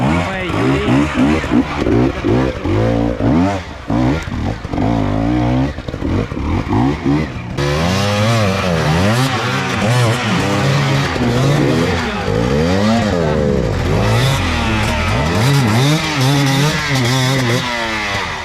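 Enduro motorcycles snarl and rev hard at a race start, engines loud and close with rising and falling whine as bikes accelerate away, while a commentator talks over the continuous roar.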